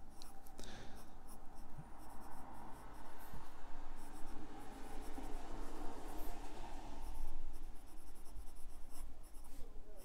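A medium-nib fountain pen scratching across paper in close, quiet strokes, with short pauses between bursts of writing and no talk.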